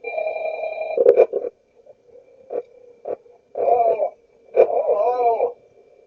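A tonal ring sounds in a Five Nights at Freddy's night, then breaks into short warbling tones and sporadic electronic blips that come and go in uneven bursts.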